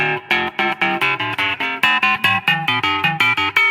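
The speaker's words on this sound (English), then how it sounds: "there's a ring modulator, which kind of adds overtones that may or may not have anything to do with the note that you're playing" Clean electric guitar played through a DOD Gonkulator ring modulator pedal with distortion off, a steady run of about sixteen evenly picked notes carrying bright, clangy metallic overtones, loud and close with no talking.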